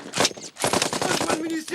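Rapid machine-gun bursts ripple through a chaotic war-film battle scene, loud and dense, with shouting voices mixed in among the gunfire.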